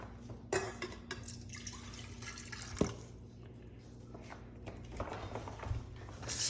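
Water trickles and splashes into a kettle, three cups measured in, with drips and light metallic clinks, moderately close, no voices.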